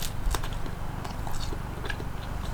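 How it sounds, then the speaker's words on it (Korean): A butter-filled laugen pretzel bread is bitten into close by, giving a few soft crunches followed by quiet chewing with no talk. "우선 버터를 먼저 먹어볼게요"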